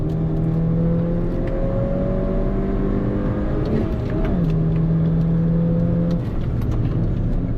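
A 2013 Mini Cooper GP engine on a race track, droning steadily in the cabin, then a sharp blip of revs as it heel-toe downshifts into second before settling into a lower, even pull.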